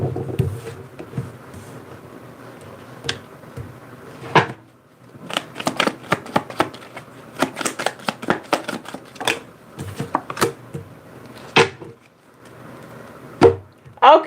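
Oracle cards being shuffled by hand, a run of quick papery riffles and taps in bursts, close and fairly clear, with brief pauses and occasional soft knocks between them.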